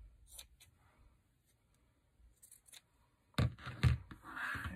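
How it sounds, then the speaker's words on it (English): Scissors cutting a small piece of scrap felt for a handmade Christmas ornament: a few soft snips, then louder close crunching cuts near the end. "take a piece of your scrap of your felt, and again, just cut a little piece here."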